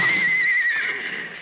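A horse neighs loudly and close in a 1940s street scene, one long sustained whinny with a wavering pitch that fades slightly toward the end.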